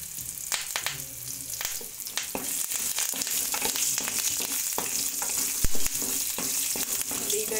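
Spices roasting lightly in a pan with ginger and curry leaves, producing a dense crackling sizzle with quick stirring scrapes and occasional pops, close and fairly loud, no one speaking.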